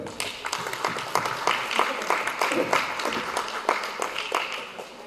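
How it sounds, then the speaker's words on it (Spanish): Congregation clapping hands at a Spanish-language church service, a dense burst of rhythmic claps with scattered shouts throughout, loud and close, with no clear speech over it. "Denle palmas fuerte al Señor."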